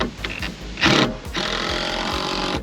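A power drill drives a screw into wood while a DIY sail barge is being built. Short motor bursts whine and bind up close, followed by a sustained grinding run as the screw snugs down. No one speaks.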